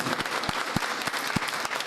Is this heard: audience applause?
yes